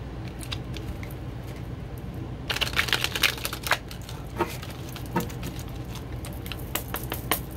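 A deck of tarot cards is shuffled in quick papery riffles and flicks, brief bursts of crisp snapping cards over a quiet room tone.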